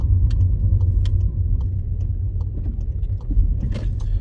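A car slows to park, its engine and road rumble a steady low drone heard from inside the cabin, with faint light clicks and rattles on top.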